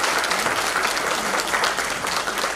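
An audience at a May Day youth show at a cultural centre in Moinești applauds steadily, a dense, continuous wash of clapping that stays loud and even throughout.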